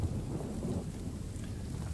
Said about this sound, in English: Still raining though.